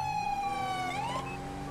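A police siren in the video game GTA 5 during an ambulance pursuit, a loud, close electronic wail sweeping down and then rising sharply, sounding alone with no speech.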